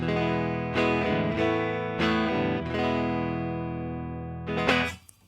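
A clean, dry electric guitar plugged directly into a recording program, playing a few plucked notes and chords that ring out and fade, with no amp coloring or distortion, played alone.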